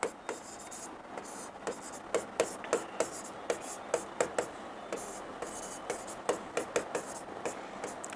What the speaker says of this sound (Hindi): पहला पॉइंट हम यही लिखेंगे, जलवायु परिवर्तन